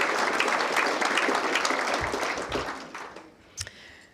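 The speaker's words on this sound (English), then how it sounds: "give yourselves a round of applause" Large convention audience applauding Senator Jacinta Nampijinpa Price, a dense roar of clapping that holds strong before fading away, with a few isolated claps near the end.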